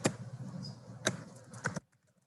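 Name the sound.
typing on a computer keyboard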